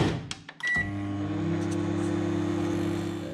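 A microwave oven heats a slime mixture, opening with a few clicks and a short beep before a steady, loud electrical hum settles in and runs unbroken to the end.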